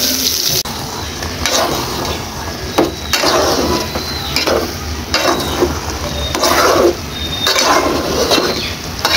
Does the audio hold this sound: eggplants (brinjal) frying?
yes